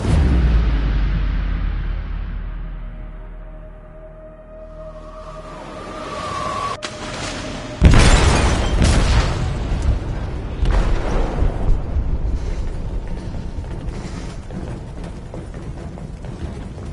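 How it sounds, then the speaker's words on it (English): An explosive detonates in a ship's hold in Detroit: Become Human, a sudden loud boom breaking a quieter stretch and followed by sustained rumbling, crashing and debris noise. "They detonated an explosive in the hold."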